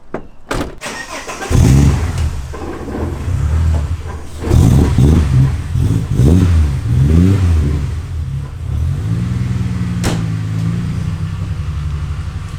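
A Ford AU Falcon about twenty years old cranks, fires up and idles loudly up close, then is revved in several rising and falling bursts before settling into a steady, rough idle.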